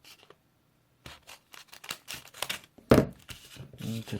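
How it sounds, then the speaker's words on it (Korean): Scissors cutting paper to make a folded paper combat knife, in irregular close snips and crinkles that start after a quiet moment and build to a louder cut near the end, with no talking. "이 아랫부분을 잘라주세요."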